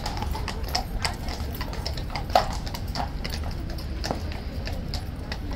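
Horse hooves clip-clop in a steady, brisk rhythm on pavement beside the King's Guard, with crowd murmur and traffic noise filling the background.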